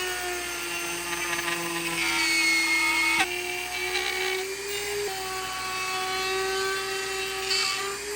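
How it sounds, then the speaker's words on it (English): A Dremel rotary tool with a low-grit bit cuts a DIY fish tank lid, giving a high, steady whine that rises and dips in pitch as it bites into the material, loud and close. "I think a Dremel is right with a super low grit so it won't cause much chatter."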